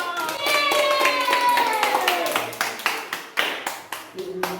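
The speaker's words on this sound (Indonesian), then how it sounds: "Tepuk tangan dong." Children in a classroom clap their hands after a group finishes a math problem, starting as a rapid loud patter under a voice and thinning into a few scattered claps by the end.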